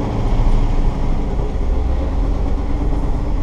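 A 1979 Ford F-150 Custom 4x4 with a 351M V8 and four-speed pulls away in granny-low first gear, giving a steady, loud, low engine rumble close by with no talking.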